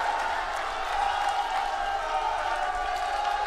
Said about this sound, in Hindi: ताली बजाओ अरविंद जी के लिए जोर से